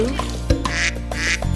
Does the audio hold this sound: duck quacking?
yes